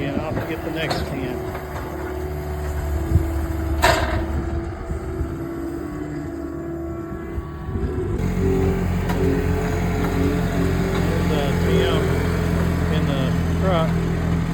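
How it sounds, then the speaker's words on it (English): A truck moving across a hay field to load bale bundles, a low engine rumble that steadies into a stronger, continuous drone in the second half. "Truck, moving it to around in the field to where he can be closer to load up some more of the bale bundles."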